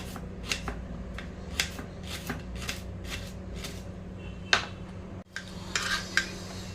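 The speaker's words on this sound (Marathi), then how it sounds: "आता आपण ह्याला चिरून घेणार आहोत या प्रकारे चिरून घ्यायचं आहे आपल्याला" A knife chops seeded snake gourd on a cutting board, a regular series of crisp, close cuts at a brisk rhythm, with a short pause before a few more strokes.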